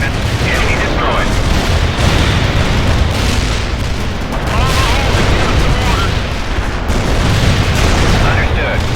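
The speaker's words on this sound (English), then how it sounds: "Artillery firing." Artillery strike in the World in Conflict video game, a dense continuous roar of booming explosions and crackling blasts, loud and close throughout, with a radio voice speaking over it.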